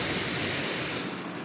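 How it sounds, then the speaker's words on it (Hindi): Hot water pours into jelly powder for falooda, a continuous close hiss and splash that stays steady and fairly loud throughout the short pour, with no voices. "ये गर्म पानी डाल रहे हैं"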